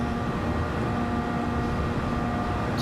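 Car engine revving high and held near the limit in fifth gear on the Nordschleife in Gran Turismo 7, a steady droning whine with constant pitch and level, uninterrupted and alone.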